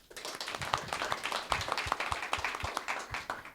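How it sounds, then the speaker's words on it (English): Audience applause for panelists at an AI and law event, a steady patter of many hands clapping at moderate volume, continuous and fairly close, with no talk over it. "give a round of applause."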